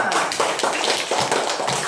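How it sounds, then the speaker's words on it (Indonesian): Children clapping together in a primary school classroom, a quick run of close, rhythmic claps filling the moment with no talk. "tepuk tangan untuk kita semua"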